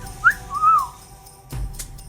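A voice imitates a wolf whistle, a catcalling whistle: a short rising whistle then a longer rise-and-fall glide, close and clear, followed by some rustling.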